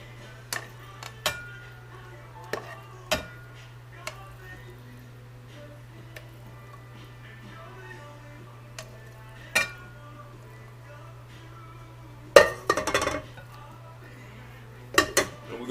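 Black bean pasta stir fry being served into a bowl, with sparse clinks and scrapes of utensils against dishes, a louder cluster of clattering near the end, over a steady low hum.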